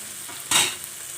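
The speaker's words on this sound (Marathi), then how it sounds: "तर एक ते दोन मिनटं थोडंसं याला परतून घेऊया" Green peas sauté in oil in a pan, with one short, bright stirring scrape and sizzle burst in the middle of the clip over a low, steady frying hiss.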